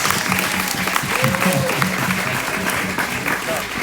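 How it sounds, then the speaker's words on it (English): A live-stream gathering's audience claps in steady, dense applause for the whole stretch, with some crowd noise and a voice faintly mixed under the clapping. "Round of applause."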